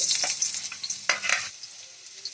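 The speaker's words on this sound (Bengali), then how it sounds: "ওই তেলেই আমি গ্রেভির উপকরণগুলো ভেজে নিচ্ছি এতে আমি দিচ্ছি এবারে রসুন কুচি" Chopped garlic frying in oil for a vegetable Manchurian gravy, with a busy close sizzle and the scrape of a spatula stirring through the pan, fading quieter toward the end.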